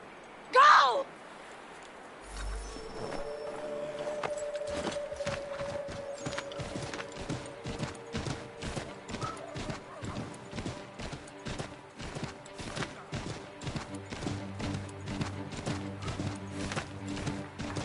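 Horse hooves in Assassin's Creed 3, a steady rapid clip-clop of galloping repeating for most of the stretch, moderately loud over a faint background, following a brief loud burst at the start, with voices speaking.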